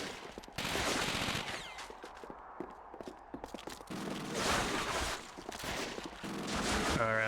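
Machine gun fire at the Road to Remagen bridge in the video game Call of Duty Finest Hour: rapid rattling bursts of gunfire come and go amid constant battle noise, fairly distant and low in level.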